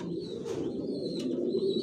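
Pigeons coo softly and continuously inside a home loft of quality racing pigeons, a steady low murmur with a few faint higher chirps above it.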